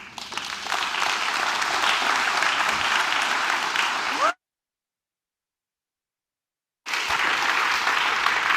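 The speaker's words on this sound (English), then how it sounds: "I think they deserve another round of applause" An audience applauds startup teams at a showcase, with steady dense clapping that cuts out completely for a couple of seconds and then resumes just as strong.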